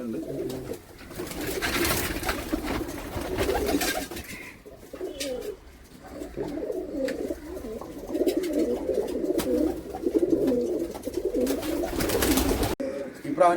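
Pigeons, among them a young bird from a pair brought from Palakkad, coo repeatedly nearby in a steady murmuring chorus, with occasional voices and brief handling noises.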